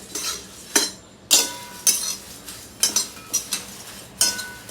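Puffed rice being roasted in a pan for thin poha chivda, a spatula scraping and knocking against the metal in repeated brisk strokes, close up, with a light dry rustle between and no voices.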